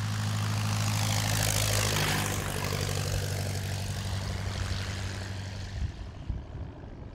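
An old Jenny biplane of wood, wires and struts, its engine and propeller roaring loud and close, a deep throbbing drone that stays steady and then fades slightly toward the end, with no voices.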